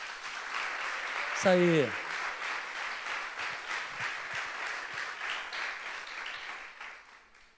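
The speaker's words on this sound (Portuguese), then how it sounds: "Vamos aplaudir o Senhor" A church congregation applauds with steady, moderately loud clapping that carries through the whole stretch, while someone speaks briefly over it.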